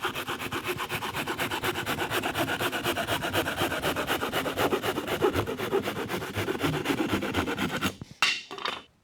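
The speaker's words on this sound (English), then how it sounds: "This is a little, like a mini Japanese pole saw, and it works pretty well" A small Japanese pull saw cuts through a wooden fence picket with steady, rapid rasping strokes close up, continuing for several seconds and then stopping as the cut finishes, followed by a few knocks.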